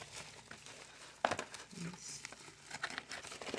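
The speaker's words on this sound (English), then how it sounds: "Sorry about all the rustling." Packaging rustles and crinkles as incense is unboxed, close and fairly quiet, coming in irregular crackling bursts with one sharper crinkle.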